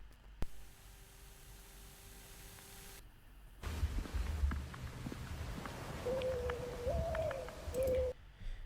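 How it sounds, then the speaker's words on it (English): A bird call sounds as a steady, thin whistled tone that shifts pitch slightly, heard over hissing background noise and faint clicks. "that is some sort of nostalgic bird call"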